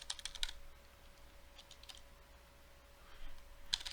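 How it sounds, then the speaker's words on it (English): Keys tapped on a computer keyboard while searching for PowerShell, short bursts of quiet clicks at the start and end with a soft hum between, faint and close. "you can just type PowerShell inside of the search bar here"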